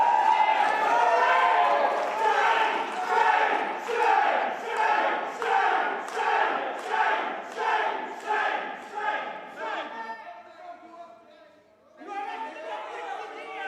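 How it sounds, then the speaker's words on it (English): A crowd at an election declaration cheers and shouts in repeated rhythmic bursts, like a chanted protest, loud and close, before briefly dropping away and then surging up again. "Some cheering."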